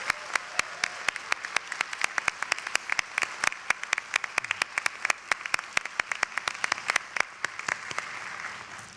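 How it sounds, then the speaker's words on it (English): At the 2022 Bridgewater College commencement, the audience applauds the band's and a bagpiper's music with a thinner patter of distinct, sharp claps in a quick irregular rhythm across a large space. "our bagpiper, Kathy Boyer, a round of applause for the wonderful music this morning"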